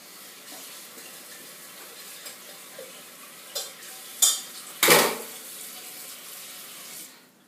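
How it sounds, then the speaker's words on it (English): Tap water runs over a ginger shredder into a tea pot while masala chai is made: a steady, soft trickle with a few clinks and knocks, then a brief louder splash before it stops. "I run the water over the shredder too to get all the ginger off of there into the tea"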